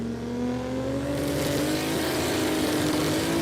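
A Corolla panel van with a roof rack launches down the drag strip at Willowbank Raceway, Australia, lifting a wheelie: a loud, continuous engine roar with a rising pitch, close and with no gaps.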